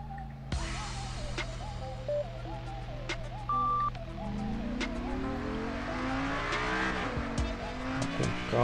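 A car in the mobile drifting game Deriva Max Pro revs continuously with a steady engine drone and intermittent tire squeals as it slides through corners, alone without talk.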